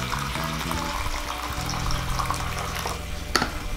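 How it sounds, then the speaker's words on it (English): Water poured into a 16-ounce plastic deli cup used for a snake egg clutch setup, a steady close trickle and splash running throughout, with a small clink near the end. "Add the water."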